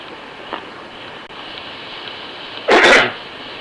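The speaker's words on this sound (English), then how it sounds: "He's sneezing in the sunshine." A man outdoors in the sunshine lets out a single sharp sneeze near the end, loud and close against a faint background hiss.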